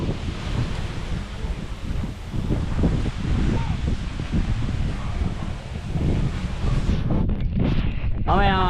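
Strong wind gusting across an outdoor spot among coconut trees, a steady loud rush with rustling throughout, and a person talking over it near the end.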